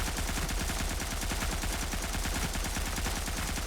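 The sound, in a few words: gunfire in a shooter video game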